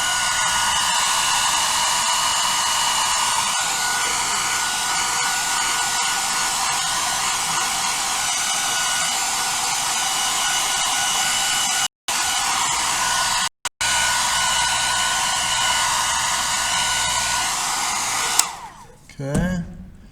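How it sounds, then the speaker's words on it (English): A hair dryer blowing steadily on a watercolor painting to dry it, a loud continuous close whine with two brief cutouts, then switching off near the end. "I'm going to blow dry this a little bit longer."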